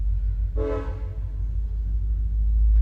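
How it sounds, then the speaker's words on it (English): A train horn sounds once from moderate distance, a short steady blast over a constant low rumble of passing rail traffic that continues after it fades. "Slakia, there's a damn train."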